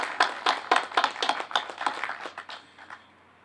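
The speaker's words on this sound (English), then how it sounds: "I think these heroes deserve another round of applause" Audience applause at a recognition ceremony for Litchfield and Hudson fire and police personnel, a short burst of scattered claps from a modest crowd that fades out within a few seconds, with no speech over it.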